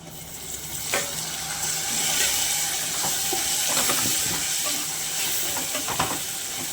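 Chopped tomatoes frying with softened onions in a pan for a Telangana-style meal maker curry, with loud continuous sizzling and hiss, and occasional stirring clicks and scrapes.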